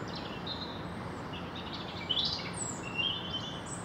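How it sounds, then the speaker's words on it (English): Small birds chirp and twitter in brief, scattered bursts along a February countryside walk near Crowthorne and Sandhurst, England, fairly faint over a steady outdoor rush of wind and distant traffic. "Plenty of bird song today"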